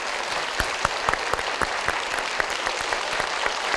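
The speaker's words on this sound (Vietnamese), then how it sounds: "dành một tràng vỗ tay thật lớn" Studio audience applause on a Vietnamese TV game show, a dense, steady wash of many hands clapping with sharp individual claps standing out, loud and continuous with no talk over it.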